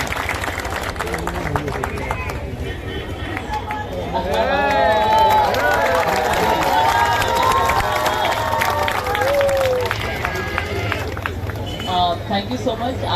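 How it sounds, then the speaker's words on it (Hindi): Loud applause and cheering from a large crowd welcoming badminton player Saina Nehwal at a Ganga aarti gathering at the Maha Kumbh, steady clapping with a voice on a loudspeaker heard over it. "जोरदार तालियों से हमारी साइना का अभिनंदन"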